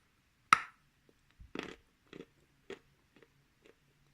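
Edible Bashkir clay crunches between the teeth in a handful of short, crisp bites spaced about half a second apart, close and quiet, each fainter than the first.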